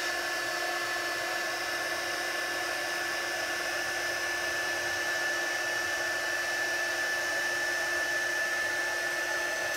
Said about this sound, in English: as soon as that powder starts to melt and change, we're going to move the heat gun over the image.